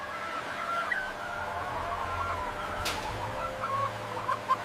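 Broiler chickens in a large automated poultry factory, a dense background murmur of clucking and chirping birds over steady machinery hum, fairly faint and continuous with a brief sharp click partway through.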